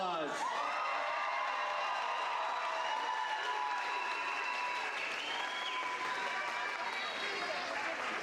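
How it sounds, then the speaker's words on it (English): A graduation audience at a high school ceremony bursts into sustained applause and cheering, dense clapping with whoops rising over a steady crowd roar throughout. "Another big round of applause."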